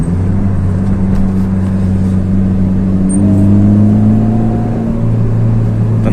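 Honda Jazz with a manual gearbox accelerating, its engine a loud, close, steady hum whose pitch climbs smoothly over several seconds, with no talking.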